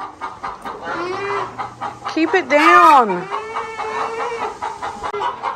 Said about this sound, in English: I'm going to try to talk over all these dang birds.